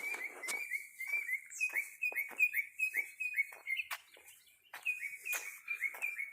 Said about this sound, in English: Man, the birds are really singing this morning.